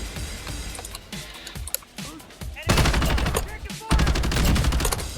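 AUG submachine gun chambered in 9mm with no barrel attachment firing in Modern Warfare 2019, rapid close bursts of automatic fire with short pauses between them, alongside other game sounds and a brief voice.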